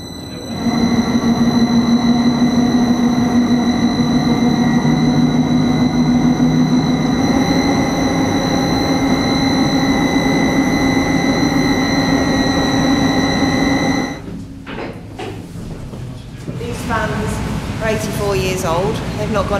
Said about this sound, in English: when we get the fan on, we're just going to have it on a half speed